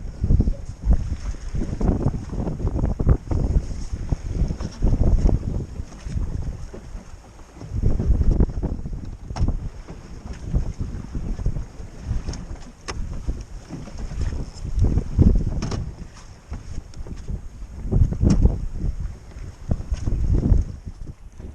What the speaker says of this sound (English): It's quite a bit windier than I thought it was going to be.